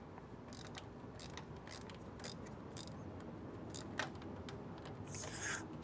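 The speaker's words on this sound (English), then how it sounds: "all I'm doing here is just undoing gear clamps to the smog pump" Gear clamps are loosened on the smog pump of a 36-year-old Foxbody Mustang during a restoration, producing a series of sharp ratcheting clicks in irregular bursts over a steady background hum.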